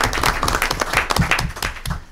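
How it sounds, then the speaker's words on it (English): A small group claps briskly for a couple of seconds, close and fairly loud, the claps uneven and overlapping. "Can we clap for him?"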